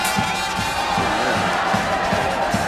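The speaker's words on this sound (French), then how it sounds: "Dans cette foule, chacun essaie de trouver une place" A dense crowd of spectators at the Saint Louis water-jousting tournament along the quays and stands, a continuous roar of cheering and shouting voices with rhythmic bursts standing out throughout.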